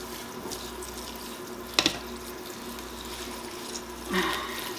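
Water running from a tap into a pot of kale being prepared for canning, a steady splashing flow close by, with a couple of brief clinks and drips along the way.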